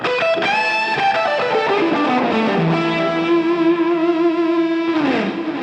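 An electric guitar lead tone sings a sustained, bending melodic line with light distortion and effects, one long note held and slid down near the end, played alone.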